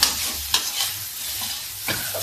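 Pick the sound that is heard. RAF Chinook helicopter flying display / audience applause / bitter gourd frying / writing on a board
bitter gourd frying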